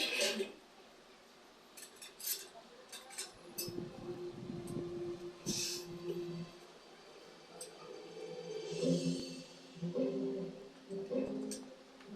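Cutlery and dishes clinking at a meal of batchoy in an eatery, scattered light clinks and scrapes with a low room rumble, close by, with people talking in the background.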